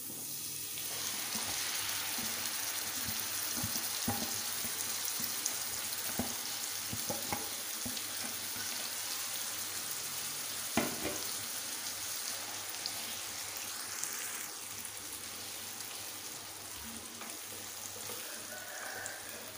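Chicken pieces frying in garlic ginger paste on a hot tawa, a steady dense sizzle throughout with occasional soft clicks and stirring knocks, close and even in loudness.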